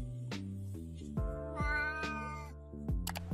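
A pet cat meows repeatedly, about six or seven close, clear calls of varying pitch and length, some drawn out and whiny, with no one speaking.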